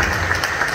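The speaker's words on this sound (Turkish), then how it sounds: "Evet, alkışlayalım." Audience applause at a film festival in Antakya, Hatay: steady dense clapping filling the whole short stretch at moderate loudness, with no voices over it.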